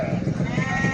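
A sheep bleats at a livestock market where sheep, goats and cattle are traded, its wavering cry filling the short moment over a crowded background.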